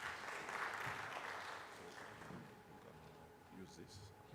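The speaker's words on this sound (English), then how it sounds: "So with that, kindly welcome Dr. Mbugua with a hearty clap." Hearty clapping from a Kenyan industrialization conference audience welcomes a speaker, strongest at the start and gradually thinning, with voices talking beneath it.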